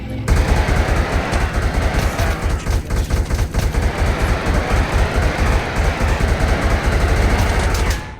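Rapid automatic gunfire from a modded weapon in Minecraft 1.12.2, a loud, dense burst of shots firing continuously for about eight seconds with a sharp cutoff at the end.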